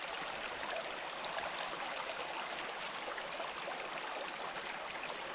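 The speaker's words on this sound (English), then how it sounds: "there is something about camping by a river and listening to this that just relaxes you so much" A river flowing beside a campsite gives a steady, close, broadband rush of running water that continues evenly without a break and with no voices.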